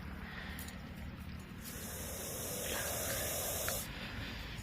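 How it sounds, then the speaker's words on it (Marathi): A coiled Russell's viper gives a sustained, forceful hiss like a pressure cooker whistle, swelling for a couple of seconds and stopping abruptly, heard up close over low outdoor rumble. "बघू शकता चालू झालं याचं हिसिंग."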